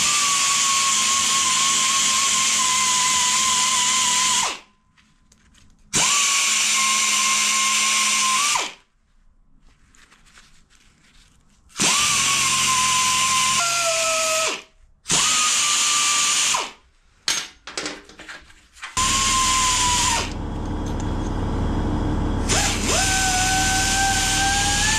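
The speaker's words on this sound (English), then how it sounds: "A bit of rust removal using the flat bit of this belt." A belt sander grinds rust off metal tank brackets, a loud close whine in several long runs broken by pauses, with the pitch dropping under load and clattering handling sounds in between.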